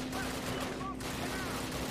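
Gunfire in the Call of Duty video game, with bursts of machine gun fire against a steady low hum and game ambience and no voices, loud and continuous throughout.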